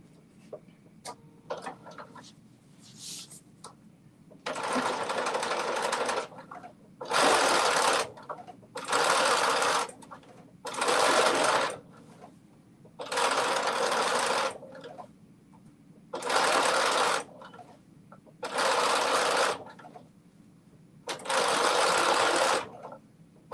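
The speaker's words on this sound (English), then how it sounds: "now I'm doing my understitch and then I will be doing my top stitch" A sewing machine runs an understitch in eight or nine steady bursts of a few seconds each, separated by short pauses, close and loud with no talking.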